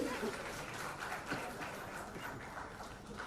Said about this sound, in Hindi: जोरदार तालियों के साथ अभिनंदन करते हुए